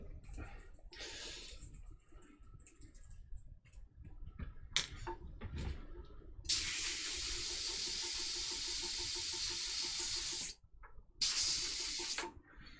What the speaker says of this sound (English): that was just mainly airbrush cleaner I sprayed on that